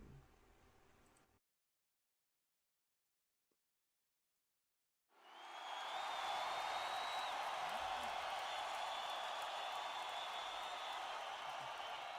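Crowd at a wrestling show roaring and cheering in a sustained, dense wall of noise that swells in after a silent gap and holds steady, with a brief bit of sound before the quiet.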